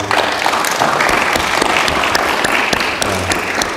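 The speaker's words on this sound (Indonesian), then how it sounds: "Mau tepuk tangan dulu," An indoor audience in Temanggung breaks into loud, dense applause, many hands clapping at once in a steady roar that holds for several seconds, with a few sharper claps standing out.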